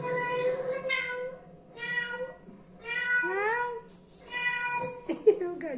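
A cat meows repeatedly, several drawn-out calls with pauses between them, close and clear, ending with a sharper cry.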